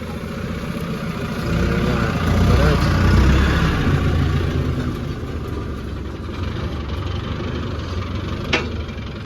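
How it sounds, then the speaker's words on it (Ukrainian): A tractor engine rumbles steadily low at idle throughout, during a soybean harvest, swelling slightly for a moment before settling back, with a faint brief click near the end. "І так, трактор."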